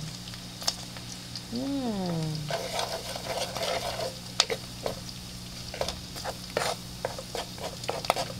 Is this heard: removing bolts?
no